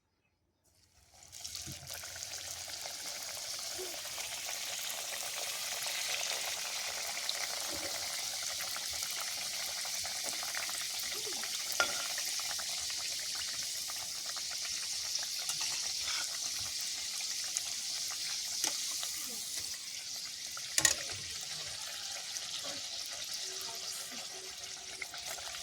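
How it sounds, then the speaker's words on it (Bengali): Potato-and-dal stuffed snacks fry one by one in hot oil in a wok, a soft, continuous sizzle and hiss that starts abruptly and keeps a fairly low, even level, broken by a few small pops and crackles. "তেল দিয়ে দিয়েছি কড়াইতে, তেলও গরম হয়ে গেছে। দেখুন একটা একটা করে দেবো এখন।"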